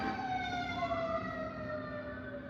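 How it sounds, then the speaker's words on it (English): An ambulance siren wails steadily through a downtown street, its rising and falling tones sustained and moderately close, with no talking over it. "It's the ambulance. We're downtown."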